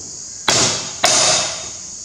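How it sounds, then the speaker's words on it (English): A soft hammer strikes twice, tapping a seal into place against the front housing of a Ferguson FE35 diesel injection pump. The two sharp, close knocks come about half a second apart and each rings out briefly. "you can use that front housing and a soft hammer"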